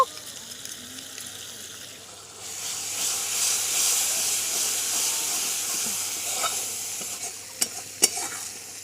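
Chili powder and coriander paste hit hot mutton fat in a pan for a fig curry, bursting into a steady, close sizzle and hiss, with scraping stir strokes and clicks near the end.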